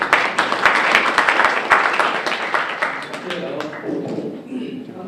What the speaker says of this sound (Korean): 큰 박수 맞아주십시오.